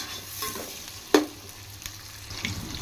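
Onions frying in a pan until brown for a home-style Muslim chicken biryani, a soft steady sizzle with a sharp utensil knock near the middle and faint stirring scrapes, no talking.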